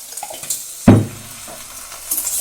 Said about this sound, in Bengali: বেগুনটা ভেজে নিই, সামান্য ভাজবো, বেশি ভাজবো না।